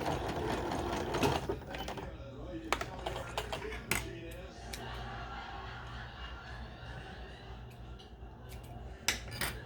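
Sewing machine back tacking a seam on a bucket hat, a close rapid mechanical chatter in short bursts mixed with clicks and handling noises, fairly quiet, with no talk.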